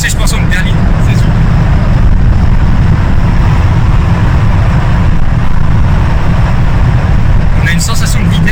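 A 2005 Chrysler 300C with a 5.7-litre V8 Hemi rated at 400 hp drives along, its engine a steady, loud low rumble heard from inside the car while people talk over it.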